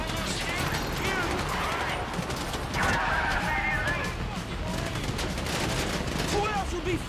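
Gunfire in the GTA 5 Paleto Score heist fills the clip with dense, continuous automatic bursts and scattered shots. Crashes and other chaotic game noise sit underneath.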